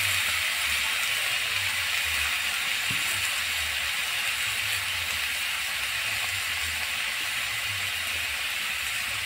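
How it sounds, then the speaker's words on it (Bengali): Pieces of meat sizzle in hot oil for a spicy home-cooked dish, making a loud, continuous hiss that fills the whole stretch without a break, with no talk over it. "মাংসগুলোকে দিয়ে নিলাম তেলের মধ্যে"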